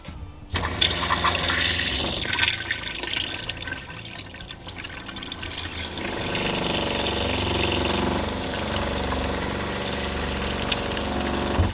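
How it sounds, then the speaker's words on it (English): Water and pink RV antifreeze gush from the sink faucet of a Palomino SS550 truck camper, a loud continuous rushing stream with a pump humming underneath; the flow changes tone partway through, and no one speaks. "So we're going to draw water out of our sink until the pink antifreeze comes out."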